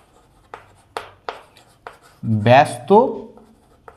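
Marker or chalk writing on a board during a fifth-grade math lesson produces a few short, sharp taps and strokes spaced apart, followed by a voice speaking close by.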